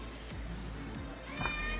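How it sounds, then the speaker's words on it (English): A house cat meows indoors, one drawn-out, fairly close call over a steady low background hum. "This is my cat."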